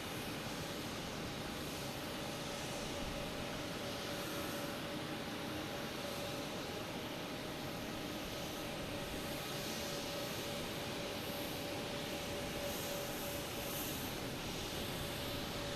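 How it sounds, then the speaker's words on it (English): A Turkish Airlines airliner passing by at Boston Logan Airport makes a continuous, moderately distant jet engine rumble with a faint steady whine, sustained evenly throughout and heard alone without any talking. "Turkish Airlines passing in review"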